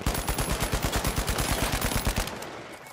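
Rapid automatic gunfire in the video game The Finals rattles in a fast, continuous burst for about two seconds, then cuts off, leaving a fading echo.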